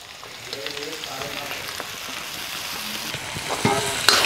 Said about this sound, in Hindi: अब इसको भी हम भूनेंगे।